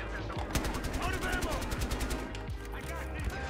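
Rapid automatic gunfire rattles through a Battlefield Hardline match, dense bursts of shots crackling nonstop at close range with a voice talking over parts of it.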